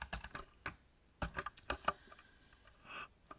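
Quiet typing of code on a computer keyboard, irregular clusters of crisp key clicks with short gaps, heard alone and close.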